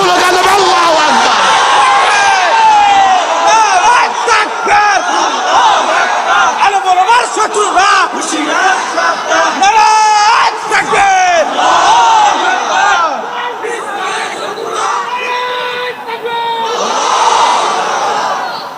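A large crowd at an outdoor religious rally in Narsingdi chants Allahu Akbar in loud, repeated rhythmic unison shouts, with rising and falling waves of many voices that continue throughout.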